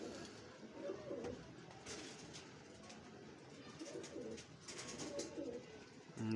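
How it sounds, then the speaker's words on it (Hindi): Pigeons cooing in a loft or coop, soft repeated low coos in several bursts at moderate distance, set against faint background noise. "सारे जितने कबूतर आपने दिखाए हैं ना।"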